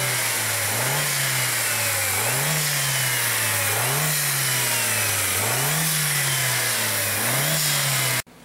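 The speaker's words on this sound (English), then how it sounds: "we like to rev the engine real quick to see if we can tell where it's coming from" A 1.8T engine with trouble codes revs repeatedly in steady cycles, rising and falling about every second and a half, loud and close with no talking.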